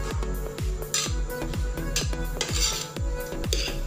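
Cooked rice for mushroom biryani being loosened and separated in a metal pan, with a quick, steady run of spoon scrapes and clinks against the pan, close and fairly loud.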